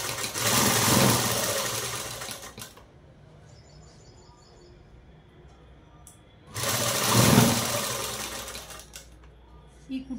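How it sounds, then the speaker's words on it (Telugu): A sewing machine stitches fabric lining in two loud, close bursts of rapid whirring, separated by a quiet pause with faint chirps. "ఇప్పుడు ఇటువైపు అనేది తిప్పేసి ఇలా అనేది మడిచి కుట్టు అనేది వేసేసుకున్నామండి."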